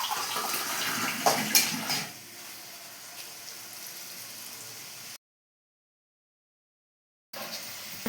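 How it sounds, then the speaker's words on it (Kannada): About two glasses of water are poured into a pressure cooker holding chopped beans. There is a rushing splash for the first couple of seconds, then a quieter trickle, a brief silent gap, and a little more splashing. "ಒಂದು 2 ಲೋಟದಷ್ಟು ನೀರು ಹಾಕ್ಕೊತಿದ್ದೀನಿ"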